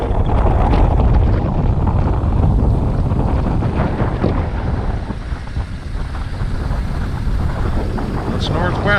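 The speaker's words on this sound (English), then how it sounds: "A little bit windy" Wind buffets an outdoor microphone on a cloudy, fairly breezy day, a loud rumbling rush that gusts and eases steadily throughout.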